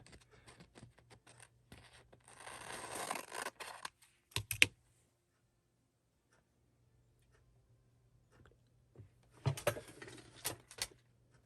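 Scissors cut around a hexagon shape in copy paper, in two bursts of rapid snipping and crisp paper rustle separated by a long near-silent pause, close and fairly quiet, with a low hum underneath.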